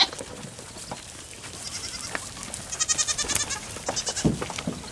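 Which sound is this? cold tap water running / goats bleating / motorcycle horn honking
goats bleating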